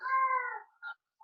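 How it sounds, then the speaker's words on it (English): A domestic cat meows indoors, one drawn-out call followed by two short chirping sounds, faint and somewhat distant in a quiet room. "if you hear a cat in the background"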